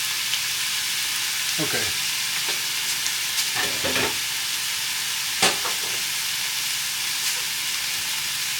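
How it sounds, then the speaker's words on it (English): A potato and egg bake mixture sizzles as it cooks down in a pan: a constant bright hiss with a few scraping stirs and clinks, and one brief spoken word. "I'm just going to let that cook down a little more."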